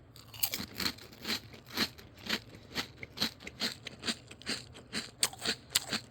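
Someone crunches and chews a jasmine rice cracker up close, with a steady run of crisp, snapping bites repeating about every half second. Nobody speaks.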